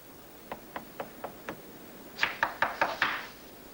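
Two bursts of knocking on a door: five even, fairly soft raps, then after a pause five sharper, louder knocks in quick succession.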